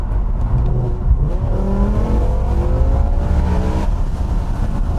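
A BMW M6 with a V10 engine revs up and down from inside the cabin, its engine note climbing and falling as it pulls hard, loud and close.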